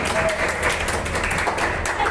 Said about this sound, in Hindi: जोरदार तालियों से हौसला दें।